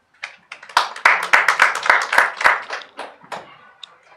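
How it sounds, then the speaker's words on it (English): Applause at a publication launch event, a small group clapping close by in a brief uneven burst that builds quickly and then tapers to a few scattered claps. "let's give ourselves a round of applause for very engaged conversation"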